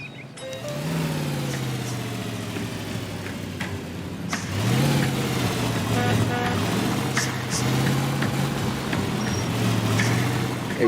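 A car in the video game L.A. Noire drives along, its steady engine hum running close and continuous, with a brief rise in pitch midway as it picks up speed, and no talk over it.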